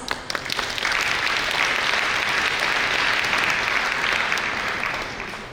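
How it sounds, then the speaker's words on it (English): An audience at a fundraising gala dinner gives sustained, evenly dense applause for a guest speaker, filling the hall with steady clapping that fades slightly toward the end. "Please give a round of applause."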